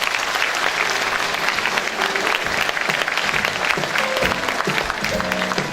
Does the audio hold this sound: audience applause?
yes